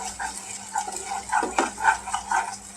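A spoon scraping and clinking in a bowl while yogurt fish curry ingredients for katla are mixed, soft irregular taps and stirring sounds close by.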